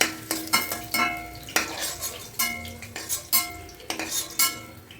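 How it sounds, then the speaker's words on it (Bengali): Potatoes fry lightly in oil while a metal spatula stirs and turns them. It scrapes and clinks against the pan in repeated sharp strokes over a soft sizzle. "আলুগুলোকে লালচে লালচে হালকা করে ভেজে নিতে হবে"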